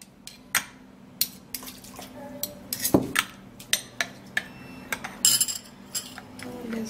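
A melted Vaseline and onion mixture is stirred in a container, giving repeated sharp clinks and taps of a utensil against the sides at an uneven pace over a quiet background.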